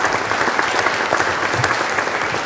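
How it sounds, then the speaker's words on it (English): A room full of residents at a city mayor's community meeting in Hammond gives a round of applause, brisk and continuous clapping with a few louder claps poking through, no voices. "Can we give her a big round of applause?"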